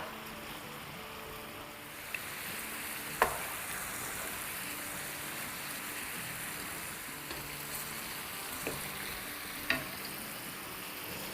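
Chicken frying on high flame in a pan for a stovetop taco pizza, a soft continuous sizzle with a few sharp knocks as it is broken up, quiet and close.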